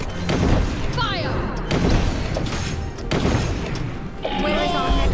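Soldiers firing massed volleys in the strategy game The DioField Chronicle, several loud booming bursts of gunfire with crashing impacts, heard over in-game voices giving orders.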